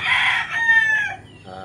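A rooster at a backyard poultry farm crows once nearby, the call rising and then trailing off, with a faint cluck from other chickens at the end.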